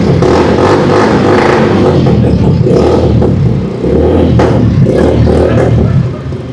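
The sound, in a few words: heavy cruiser motorcycle engine revving, sound check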